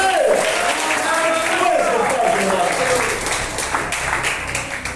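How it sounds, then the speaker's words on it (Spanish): Church congregation applauding during a festive Spanish-language service, sustained clapping across the whole span with talk and voices mixed in throughout. "Dale un aplauso al Rey del Rey y Señor de Señores, porque estamos de fiesta"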